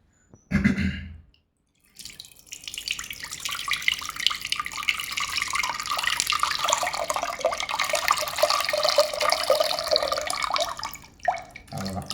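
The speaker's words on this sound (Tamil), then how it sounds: "இதில் இருக்கிற புளி சாறை எடுத்துகிட்டு தண்ணியை வரைக்கும் சட்டியில் ஊற்றிக்க வேண்டியதான்" Tamarind juice water is poured into a cooking pot for kara kuzhambu, a continuous splashing trickle lasting about nine seconds after a short knock at the start, then cutting off.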